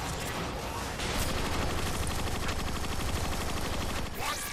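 Dense, continuous automatic gunfire from Transformers: Fall of Cybertron multiplayer, loud and relentless for the whole stretch with rapid overlapping shots.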